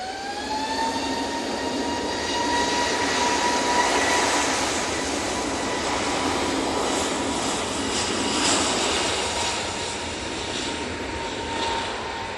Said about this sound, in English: Here we go, this A321 Neo, Jet2.